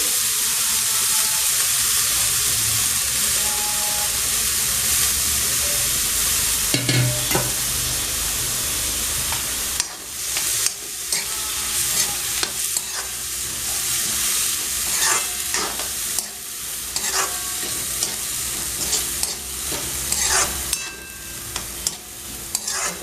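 Onion greens mixture stirred and frying in a pan for a spicy Maharashtrian sandge bhaji, with a steady close sizzle and scraping spoon strokes throughout.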